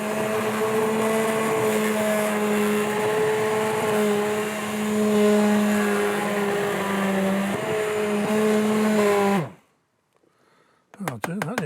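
A blender blitzes cooked tomatoes and their skins for homemade ketchup, a loud steady motor whine with shifting pitch that runs about nine seconds, then cuts off abruptly; brief clatter follows in the quiet.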